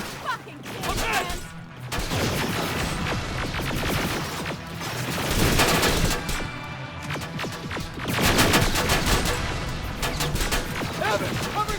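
Sustained bursts of gunfire rattle through a firefight in Terminator: Resistance, rapid shots and heavier booms rising and falling in intensity, with shouted voices mixed into the combat.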